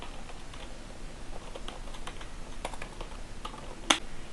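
Steady typing of PHP code on a computer keyboard, a close, continuous patter of key clicks with one sharper key strike near the end and no talking.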